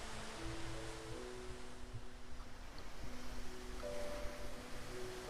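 Ocean waves wash against a cruise ship in a constant soft broadband roar of surf, with faint sustained tones drifting underneath, steady and moderately quiet throughout with no talking.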